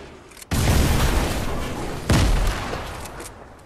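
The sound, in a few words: grenade launcher fire in a video game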